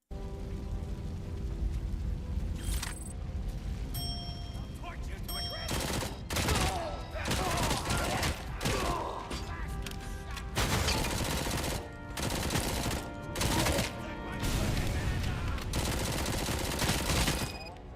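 Gunfire in RoboCop: Rogue City, rapid bursts of shots and heavier blasts hammering in clusters over a busy, loud combat backdrop, with brief gaps between volleys.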